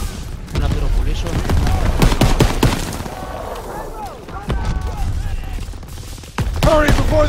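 Gunfire in the World War II shooter Call of Duty WWII, with dense rapid bursts of rifle and machine-gun fire and a few heavier booms, loud and close, alongside shouted voices.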